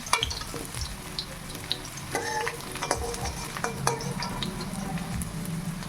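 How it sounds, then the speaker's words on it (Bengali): Kohlrabi pieces fry in hot oil with a steady, close sizzle, while a utensil stirs and scrapes through them in short clinks and knocks against the pan. "ওলকপিগুলো ভেজে নিয়েছে এই যে ওলকপিটা খুব বেশি ভাজবে না এইভাবেই আপনারা ভাজবেন"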